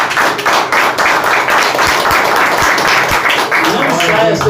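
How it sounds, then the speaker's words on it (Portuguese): A church congregation applauds in a loud, steady wash of clapping that holds evenly throughout, with voices mixed in. "Dê uma salva de palmas"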